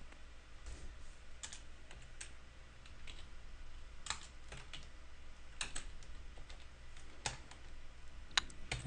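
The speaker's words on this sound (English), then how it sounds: "and then you can just start typing." Typing on a computer keyboard: irregular bursts of close, crisp key clicks and taps over a steady low hum, with no talk.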